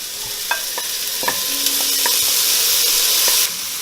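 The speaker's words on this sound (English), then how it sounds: "you're going to put a little bit of oil, and then you're going to add your onions" Onions dropping into hot oil in a pot for Vietnamese meatballs, a loud close sizzle with a few metallic taps and clinks from stirring, one brief tonal squeak, then the frying noise dropping off near the end.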